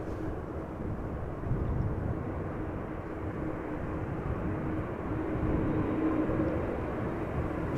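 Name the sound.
Delta airliner landing at Amsterdam Schiphol Airport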